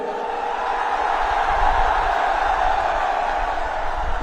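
A huge crowd fills a Mayawati political rally ground in Lucknow, its dense, steady roar of many voices holding at an even level throughout without pause.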